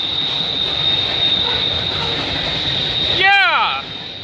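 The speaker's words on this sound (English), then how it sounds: "Symbol on that train is CN M396." The CN M396 freight train, led by CSX and Union Pacific locomotives, passes Burlington Junction in the rain with a steady rumble under a sustained high whine, then a brief rising squeal near the end.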